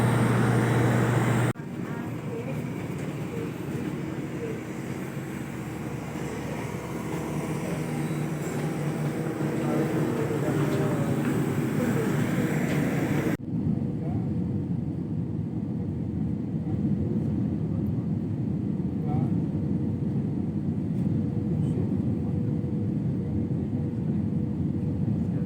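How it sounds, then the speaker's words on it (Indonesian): Steady cabin drone of a Citilink airliner flying from Surabaya to Balikpapan, a continuous broad engine roar that holds at a constant level throughout, with a shift in tone partway through. "sebentar lagi sama Agus Mulia naik pesawat Citylink ke Balikpapan"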